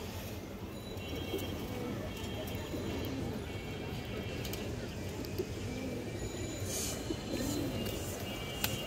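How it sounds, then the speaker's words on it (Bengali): A khaki female pigeon of an old breeding line coos softly in a loft, low repeated notes set against a steady background rumble with occasional faint clicks. "এটা পুরনো লাইনের খাকি মাদি কবুতর"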